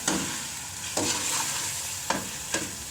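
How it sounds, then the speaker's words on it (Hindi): Spinach and mutton for palak gosht fry in a pot, a steady close sizzle broken by a few sharp stirring scrapes. "अब इसको मैं थोड़ी देर भूनूंगी"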